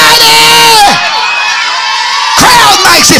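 A church congregation at a Sunday service screams and cheers loudly, with one sustained roar that dips briefly and then surges back.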